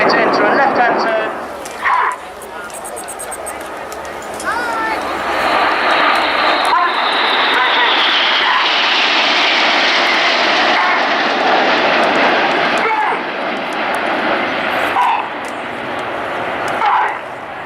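Military aircraft fly over in formation at the Yeovilton Air Day display. A loud, sustained engine roar swells and lingers overhead, and a commentator talks over it.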